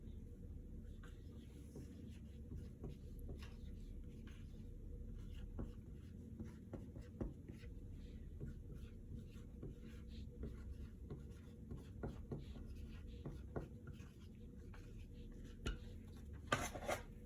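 A pen writes on paper in steady scratchy strokes for a long stretch, faint against a low rumbling background, with occasional light taps and rustles.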